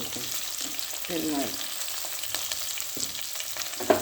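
Onion, green chilli and curry leaves sizzle steadily in a hot pan with oil, a continuous close frying hiss broken by a few light stirring scrapes and knocks.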